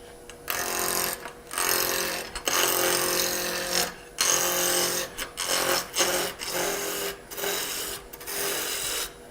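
A roughing gouge cuts a wood ornament spinning on a lathe, giving loud, rasping scrapes in repeated bursts broken by short gaps as the tool lifts and re-engages; no one speaks.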